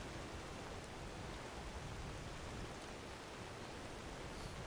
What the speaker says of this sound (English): Oh, now it's raining.